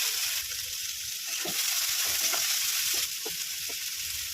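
Onions frying in a pan, cooked after potatoes and aubergine for a spicy lote fish curry, give a steady close sizzle throughout, with soft stirring scrapes tapping in at intervals.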